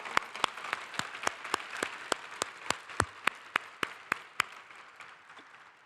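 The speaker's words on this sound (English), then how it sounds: "So please join me in one more round of applause for those beautiful dances." Sparse, slow rhythmic clapping of about fifteen sharp claps, evenly spaced and fairly quiet, at a community plenary gathering after dance performances, with a faint room murmur underneath.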